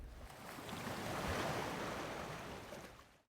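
Water waves wash in a soft, continuous rush that swells and fades over a few seconds, quiet and alone.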